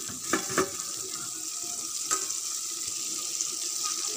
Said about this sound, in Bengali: বাটিটা ধুয়ে দিয়ে দিলাম